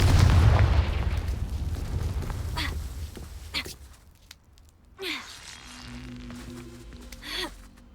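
Confringo blasting spell from Hogwarts Legacy goes off as a loud booming burst at the start, trailing into rumble, followed by fainter whooshing spell effects and tonal game sounds.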